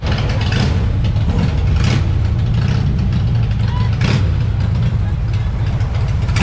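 A Harley-Davidson Fat Boy motorcycle engine runs steadily at an outdoor spring rally, a loud continuous low rumble close by with slight rises in revs.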